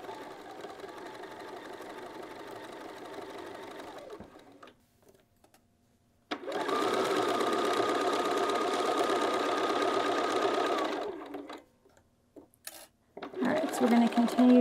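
Stitching around a fabric bag, a sewing machine runs in steady whirring bursts, a long run then another long run after a brief pause, followed by short stop-start stitches near the end.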